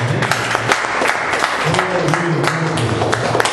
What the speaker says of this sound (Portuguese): E que as palmas louvem a Deus